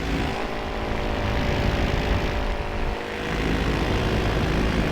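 A paramotor engine drones steadily in flight above farm fields of corn, a continuous propeller buzz that stays loud and close throughout, easing slightly for a moment before surging back.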